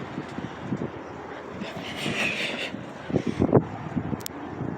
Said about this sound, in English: You can actually hear the wind.